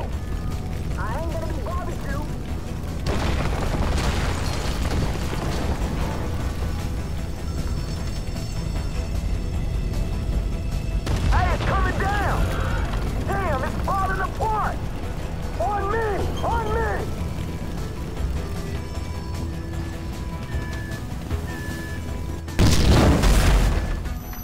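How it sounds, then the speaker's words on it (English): Deep booming explosions from a GTA 5 heist mission rumble loudly through ongoing game noise, with a sharp, heavy burst near the end; voices are heard over the action. "explosion must have knocked me out"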